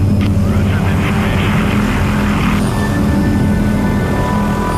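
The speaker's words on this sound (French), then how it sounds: "En voilà un beau petit hélicoptère" A helicopter's rotor and engine drone steadily and loudly, with a whining turbine tone above the low thrum.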